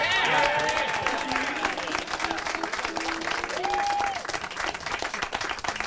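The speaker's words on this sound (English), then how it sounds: "How about a round of applause for our host, Billy?" An audience at a country music family reunion show applauds its host, a dense, steady wash of clapping that holds for several seconds and eases slightly toward the end, with faint tones and voices mixed in.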